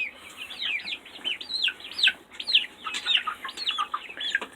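Chickens clucking on a farm, with breeds such as barred rock and Americana present, giving a busy run of close, chattering clucks and squawks with no people talking.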